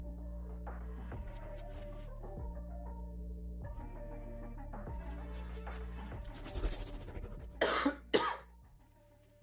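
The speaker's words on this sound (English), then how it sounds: "Perfect timing on that cough" A single cough in the middle of an esports grand-finals stream, heard under a steady humming background, with a few sharp bursts near the end.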